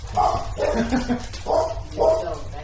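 A dog barks at a resident dog during a leash and heel training session, four short, close barks and yips in quick succession with a bit of whimpering between them.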